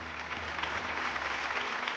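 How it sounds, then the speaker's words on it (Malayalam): An audience on a Kerala TV game show applauds a children's dance, a steady wash of clapping at moderate distance for about two seconds with no talk over it. "ഈ കുട്ടികൾക്ക് നല്ലൊരു കയ്യടി കൊടുക്കാം അല്ലേ നമുക്ക്?"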